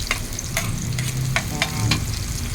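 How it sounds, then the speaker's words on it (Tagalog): Onions fry in a pan next to eggs with tomato, a close, constant sizzle punctuated by several sharp scraping and stirring clicks, with no talking. "ilagay na natin yung ating onions"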